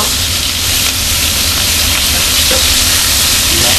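Shrimp skewers sear in a hot pan, giving a loud, steady sizzle and frying crackle throughout with no talking.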